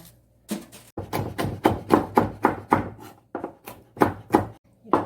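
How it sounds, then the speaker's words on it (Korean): Chili peppers split in half on a cutting board with a knife, about a dozen close, crisp thuds in an uneven rhythm with short pauses between groups of cuts. "고추는 반으로 갈라서 씨를 빼겠습니다"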